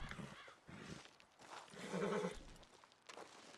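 A horse in Red Dead Redemption 2 whinnies and snorts, a wavering cry peaking midway, fairly faint, with a few muffled thumps around it and no talk over it.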